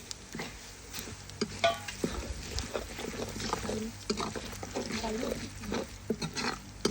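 Melon seeds, cumin and fenugreek fry in hot oil in a kadhai, a soft sizzle with stirring scrapes and light clinks, heard under a voice talking nearby.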